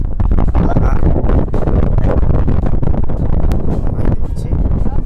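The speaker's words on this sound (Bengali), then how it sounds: "কিভাবে বৃষ্টি ঝড় চালু হয়ে গেছে, প্রচুর বৃষ্টি পড়ছে বন্ধুরা।" Strong wind roars and buffets the microphone without a break, a loud, constant rushing noise with rain mixed in, during a storm while fishing in the Sundarbans.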